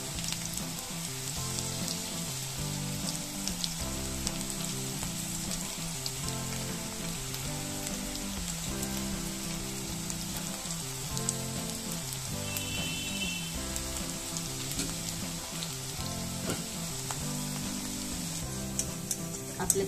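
Onion kanda bhaji deep fry in hot oil with a steady, dense sizzle and crackle that runs unbroken throughout, sitting under a layer of continuous background music.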